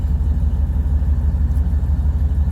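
Ram 1500 pickup fitted with Doug Thorley 1 3/4 catless headers pulling away from a stop under a bridge, a loud deep rumbling exhaust drone heard from inside the cab with a window cracked, steady and throaty throughout.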